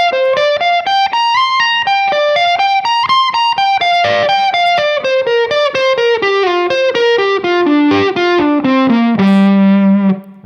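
Distorted electric guitar runs a quick descending and ascending pentatonic pattern-of-five line, notes tumbling in an even stream before settling on a held low note, close and loud with no voices.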